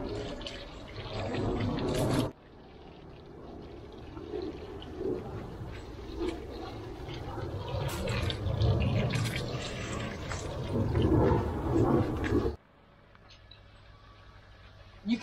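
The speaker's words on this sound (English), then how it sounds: "Now water your plants with the Bokashi compost tea," Bokashi compost tea poured from a watering can over garden plants, a steady broad splashing and trickling of liquid that runs for about ten seconds, close and fairly loud, with a short burst of pouring at the very start.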